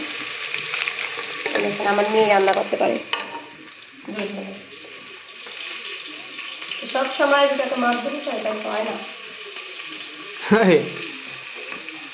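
Onions frying in a pan on a home stove give a steady background sizzle while a person talks over it at intervals, with a few brief clatters.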